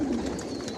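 Racing pigeons coo in a loft, a single soft, low throaty coo heard close and clear over faint background noise.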